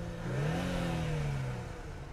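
A 2021 Infiniti Q60 Red Sport in Sport Mode revs once, its engine note rising and then easing back over about two seconds, fairly quiet and subdued, with no talking.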